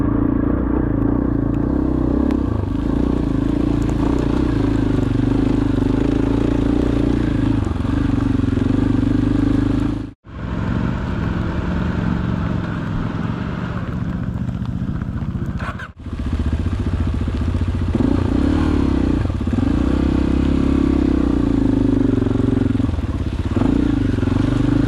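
Heavy KTM 890 Adventure motorcycles ride wet, slick trails, with a steady loud engine drone, clattering and scraping over the ground, and two brief drops in the noise partway through.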